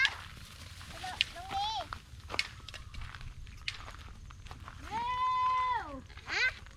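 Farm goats bleat near and loud with wavering, drawn-out cries. One long call stands out near the end, over footsteps and rustling, and a person talks softly in between.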